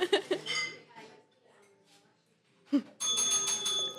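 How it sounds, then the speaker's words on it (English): A bright bell rings loudly near the end after a person speaks, its metallic tone sustained and ringing out. "Tom, ring the bell. Really, ring it really loud for me."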